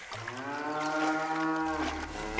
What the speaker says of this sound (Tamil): செவனாண்டி மாடு கிணத்துல விழுந்துச்சாம்டா.